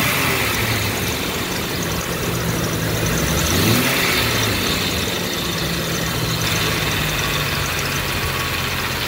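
A 1999 Jeep Cherokee XJ two-door's 4-liter engine idles steadily and close by, a continuous even rumble with no voices over it.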